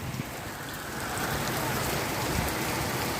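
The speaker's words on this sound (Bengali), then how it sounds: "ভেড়ামারাতে বৃষ্টি হচ্ছে, চরম বৃষ্টি" Heavy rain pours down in Bheramara, Kushtia, a broad, roaring wash of water that swells louder partway through and holds steady, with no one speaking.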